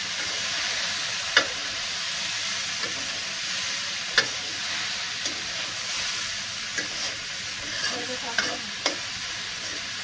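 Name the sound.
stirring seasoned chicken mixture in a pan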